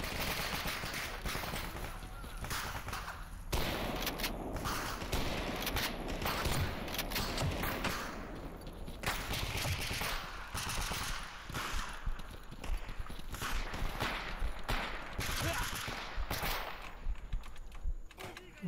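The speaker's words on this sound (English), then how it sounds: "My friends are actually taking fire now." Dense, continuous gunfire from the video game STALKER, with rapid overlapping bursts of automatic shots and scattered single reports filling the whole stretch, loud and near, mixed with faint speech.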